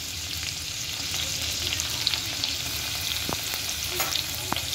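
Chopped green chillies and whole dry red chillies sizzle steadily in hot oil, with an even frying hiss and a few sharp stirring clicks.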